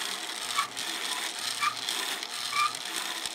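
A small part spinning on a makeshift lathe while a hand file grinds a groove into it, giving close, scratchy, rhythmic rasping strokes with faint mechanical whirring underneath.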